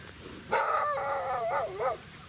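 Stray dogs outdoors by a snowy riverbank howl and bark in one drawn-out, wavering cry lasting about a second and a half, moderately distant over steady background hiss.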